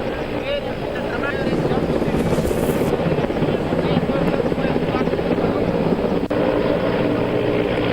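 Indian Air Force helicopter hovering during a flood rescue near a bridge on the Tawi river in Jammu, a loud continuous rotor and engine roar with rushing water, under a narrator's voice.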